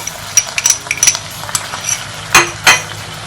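A spoon scrapes and clinks against a pot while a chicken and vegetable stir fry with sweet potatoes and sauce is stirred, giving a few sharp, close metallic knocks over a faint sizzle.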